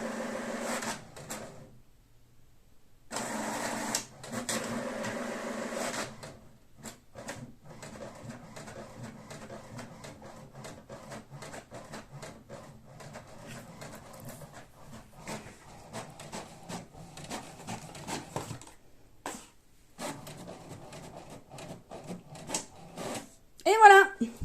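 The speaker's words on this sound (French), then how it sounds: "Donc, vous allez pouvoir juger de la vitesse d'impression." An HP Deskjet 2710 inkjet printer printing a page, with bursts of whirring paper feed and repeated mechanical shuttling and clicks from the print carriage, moderately loud and close, with brief pauses between passes.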